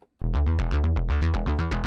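A distorted Korg KingKORG NEO synthesizer plays a fast, pulsing sequence of gritty notes, loud and buzzy, repeating in a steady driving rhythm.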